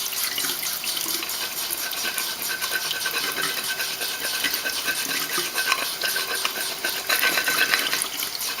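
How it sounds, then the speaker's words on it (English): Etching cream is scraped hard off a glass plate, producing a continuous, dense, gritty rasp that stays close and loud with no pauses. "as you can probably hear, I'm scraping it kind of hard"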